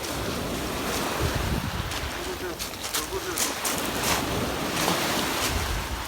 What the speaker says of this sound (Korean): 이제 파도가 살짝 있은 것 같긴 한데